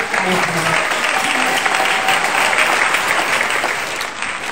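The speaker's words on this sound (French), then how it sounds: "Nous acclamons très très fort" A church congregation applauds loudly, a dense, steady wash of clapping lasting several seconds with voices mixed in.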